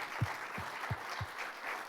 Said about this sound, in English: if we could give them another round of applause, I'd appreciate it